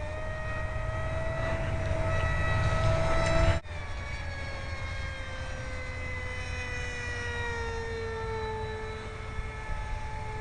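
An RC Eurofighter model jet whining through the night sky, a steady high-pitched turbine tone that shifts abruptly and then slowly drops in pitch as it passes, fairly loud with no talk.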